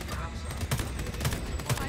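Gunfire in the shooter Homefront: The Revolution, several sharp shots landing at spaced intervals over a steady background bed.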